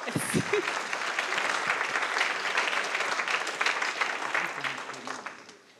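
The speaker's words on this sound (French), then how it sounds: "On peut l'applaudir très fort." Conference audience claps steadily for several seconds, a broad wash of mid-distance applause that fades out at the end, with a few words spoken at the very start.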